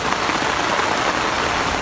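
Heavy rain driven by strong wind in North Nazimabad, Karachi, a dense constant hiss of water pounding surfaces, loud and unbroken.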